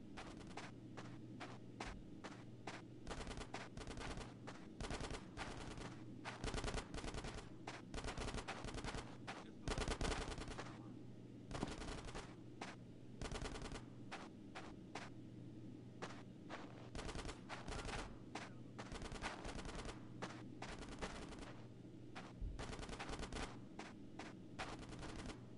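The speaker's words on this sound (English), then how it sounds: "Get some suppressing fire in there!" Video game gunfire in GTA San Andreas on PS4, rapid automatic bursts and repeated shots over a steady background hum, continuous and dense throughout with no talk.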